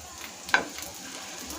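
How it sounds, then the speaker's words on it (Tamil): Coriander seeds and dried red chillies frying in mustard oil, a close, steady crackling sizzle with one brief sharper pop of stirring near the start. "கொத்தமல்லி, காஞ்ச வத்தல், அது நல்லா வறுத்துக்கும்."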